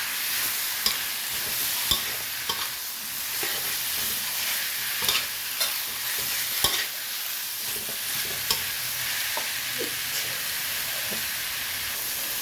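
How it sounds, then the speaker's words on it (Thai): Pork belly is stir-fried with curry paste in a pan, giving a continuous loud sizzle and hiss broken by clacks and scrapes of a spatula against the pan, with no talking. "ใส่หมูสามชั้นลงไปเลยนะคะ ก็ผัดให้เข้ากันค่ะ"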